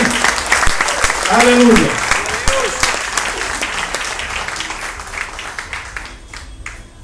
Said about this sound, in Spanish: Dele otro aplauso al Señor de gloria por eso.